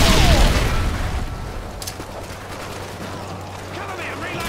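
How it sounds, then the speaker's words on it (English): A stun grenade goes off in a Modern Warfare 2 video game match on Xbox One, with a loud blast and then ringing aftermath under continuing gunfire and battle noise. "Tossing stun grenade."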